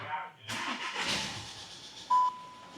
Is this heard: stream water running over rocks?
no